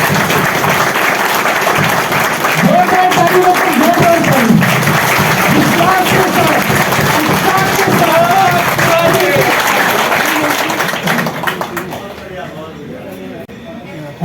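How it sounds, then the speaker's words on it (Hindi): Loud, sustained applause from a large crowd at an outdoor political rally in India, with dense clapping and crowd voices mixed in, tapering off near the end. "जोरदार ताली से"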